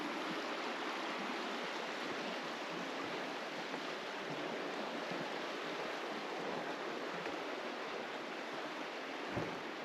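Steady broadband rush of a river flowing in a secluded part of Utah where a new bridge now crosses, constant and fairly close with no voices over it.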